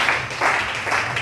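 Church congregation applauding in worship, a short burst of rhythmic group clapping in pulsing waves, moderately loud.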